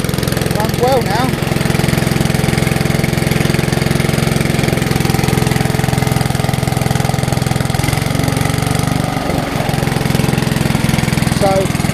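Classic Hayter Hayterette lawn mower engine, freshly refuelled after a carburettor conversion, running steadily close by with a loud even drone, and a voice talking over it in places.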